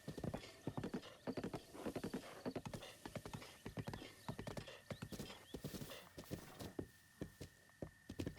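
Epona, the horse in a Zelda game on Switch 2, trotting with rapid, steady hoof clip-clops throughout, plus a brief whinny, all fairly faint and without any talking.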